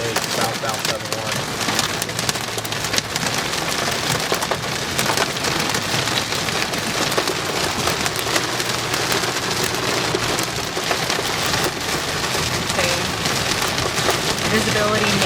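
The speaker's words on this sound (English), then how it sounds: "Experiencing hail." Hail and rain pounding down on a highway during a storm, a dense, steady hiss with scattered sharp ticks of ice striking hard surfaces, continuous and close without let-up.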